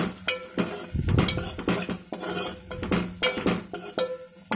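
Curry ingredients frying in a pan for a tomato drumstick curry, stirred vigorously with a spatula that scrapes and knocks repeatedly against the metal over a soft sizzle, close up with no talking.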